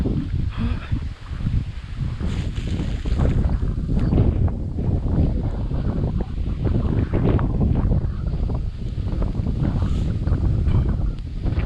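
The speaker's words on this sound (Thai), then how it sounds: "อันนี้ลมแรงแล้วครับผม" Strong wind on an outdoor freshwater fishing trip roars steadily and loudly across the microphone throughout, with gusty buffeting and no clear speech.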